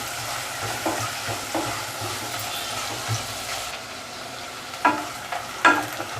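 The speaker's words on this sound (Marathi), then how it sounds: "नाहीतर मिरचीसोबत थोडासा परतूया कांदा" Onion and chopped green chillies saute in a pan, with a constant sizzle and a few sharp spatula knocks and scrapes against the pan, close up with no voices.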